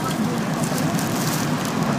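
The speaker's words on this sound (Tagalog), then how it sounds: "Ayun na yung apoy eh." A house fire burning in a waterfront neighborhood in Bacoor, a steady dense crackling roar, like heavy rain, that fills the whole clip at close range.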